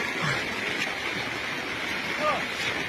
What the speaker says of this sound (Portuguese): Fazia muitos anos que não tinha essa cheia aqui no Rio Xodé.